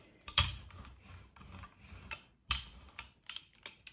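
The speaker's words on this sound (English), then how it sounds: "Let's brayer this out." A rubber brayer rolls over a Gelli plate during a magazine image transfer, giving soft rubbing, sticky textured passes with a few sharper ticks, close and moderately quiet, with no talking.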